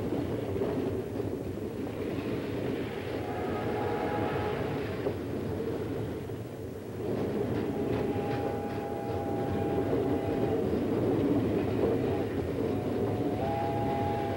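Grand Trunk Western 3740, a Mikado 2-8-2 steam locomotive hauling a way freight between Durand and Detroit, rumbles and clanks along in a dense steady roar, with faint whistle-like tones drifting through and no clear talking.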